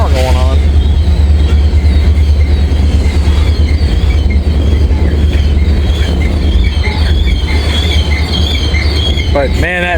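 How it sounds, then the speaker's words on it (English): A freight train with EMD GP30 and SD60 locomotives rolls past, loud and close, its deep rumble steady throughout with wheel squeal and clatter rising over it at the start and end. "Looks like he's got a light load, a little GP 30A or something, and an SD60."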